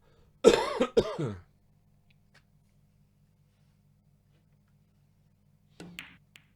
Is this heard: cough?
yes